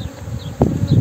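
Honeybees buzz steadily at close range around an open hive as a beekeeper prepares to fit a queen excluder, a continuous insect drone with a few louder swells.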